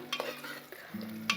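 Onions fry in a cooker for a mutton curry, a soft sizzle with light scraping of a stirring spoon against the metal, faint and close.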